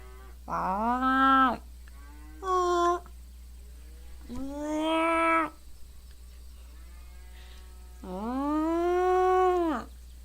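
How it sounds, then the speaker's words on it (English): Several cows moo in turn on a farm, long drawn-out calls, some close and loud, one fainter, with pauses between them. "We're at a farm. Intimate mooing."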